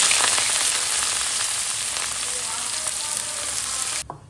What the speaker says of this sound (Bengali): তো আলুগুলো একটু ভেজে নিই